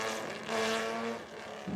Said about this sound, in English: So the D-Type making its way out of the pits.